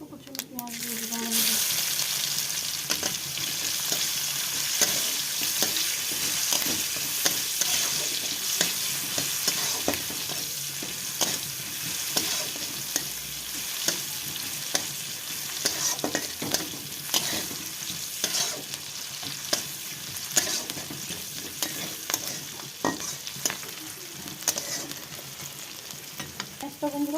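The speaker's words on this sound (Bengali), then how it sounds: "পেঁয়াজটা বন্ধুরা ভাজা হয়ে গেছে।" Onions with cumin fry in hot oil in a wok, sizzling steadily and loudly while a spatula scrapes and stirs in a continuous, uneven rhythm.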